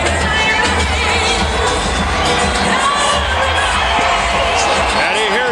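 A boxing arena crowd roars and cheers for Evander Holyfield in his bout against John Ruiz. The noise is loud and sustained, with shouts and whoops, and a commentator's voice runs faintly underneath.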